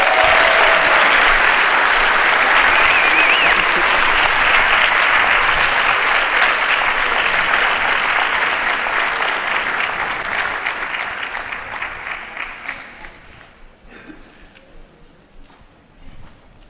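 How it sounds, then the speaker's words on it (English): Sustained audience applause at a lecture following a sung performance, loud and dense for about twelve seconds before thinning into scattered claps and fading out. "Give yourselves a big hand."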